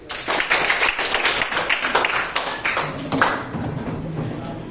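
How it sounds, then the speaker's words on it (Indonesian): Audience clapping during a school counseling training session in Indonesia, a dense burst of hand claps with a few louder taps that thins toward the end. "Tepuk tangan"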